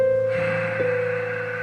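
Breathy, hissing exhale through a closed mouth while trying to say ha, part of a Brahmari breathing exercise; one short, close, steady tone with a faint nasal hum and no talking.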